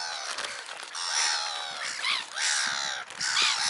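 Birds and geese at feeding time keep up a harsh, raucous clamour, overlapping cawing calls that surge in loud bursts with brief dips, all close by and with no voices.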